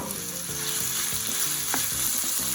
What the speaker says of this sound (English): hear that sizzle straight away, always good sound